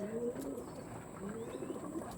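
Tournament-quality pigeons give soft, low cooing in a quiet setting, a couple of faint murmuring phrases with a thin background hum.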